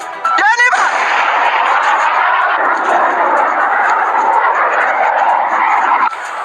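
Missile explosions strike Petah Tikva, Israel: a sharp blast bursts near the start, then a loud, sustained roar of rumble and debris noise carries on steadily for several seconds before cutting off.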